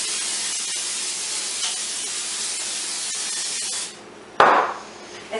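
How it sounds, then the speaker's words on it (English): Coconut oil sprayed from a can onto a George Foreman grill gives a steady, close hiss for several seconds. It cuts off, then a brief clatter and a short burst of noise follow. "Spray my George Foreman with some coconut oil pan."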